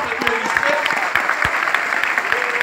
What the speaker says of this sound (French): je vous demande d'applaudir profondément